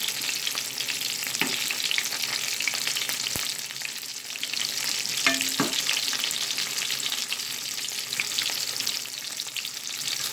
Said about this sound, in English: Shallow frying allows it to have a nice crispy coating